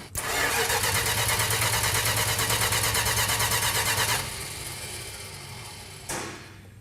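A 1968 Dodge Charger R/T engine cranking without firing: loud, close, rhythmic starter churning for about four seconds, then a quieter lull and a brief second crank burst near the end.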